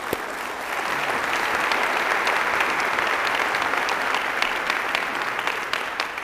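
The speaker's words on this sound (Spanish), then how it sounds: "Sí, un aplauso." Loud, sustained applause from a business conference audience in Mexico welcoming a former Peruvian president, rising quickly at the start and holding a dense, even roar of clapping with a few sharper individual claps.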